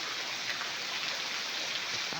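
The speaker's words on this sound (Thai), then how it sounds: "แล้วฝนก็ยังตกอยู่ทุกคน" Heavy rain pours steadily in a forest, a dense, continuous hiss of drops striking leaves and surfaces, loud and close with no pauses and no voices.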